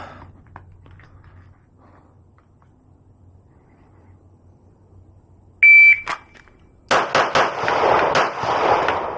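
A Glock pistol drawn from the holster fires a quick close-range string of sharp shots, three rapid reports and then a fourth, loud and close, following a high electronic beep from a shot timer in an otherwise quiet range.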